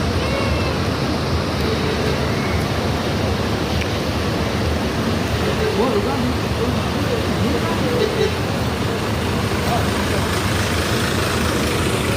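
Bus engine idling at the Kampung Rambutan bus terminal, a steady low rumble filling the whole stretch, with people talking over it.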